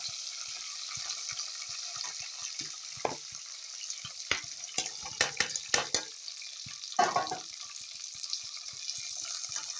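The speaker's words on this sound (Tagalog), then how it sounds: "Ilagay ko na itong Baguio beans. Extra ko ito sa dinengdeng. So, igisa-gisa ko lang." Baguio beans sautéing in a hot pan, a steady close sizzle broken by scraping stir strokes that cluster in the middle of the stretch.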